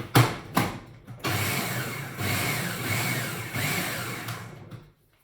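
A blender blitzes a pea and chili mixture with a couple of short pulses, then a loud, steady whirring roar of the motor, close up and alone, that cuts off abruptly.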